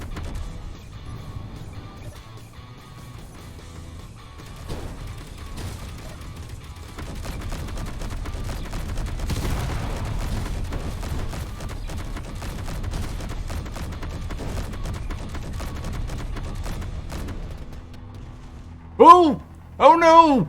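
Tank combat in Space Engineers, a run of dense gunfire bursts and crashing impacts building to a louder barrage, followed by a few sharp cries near the end.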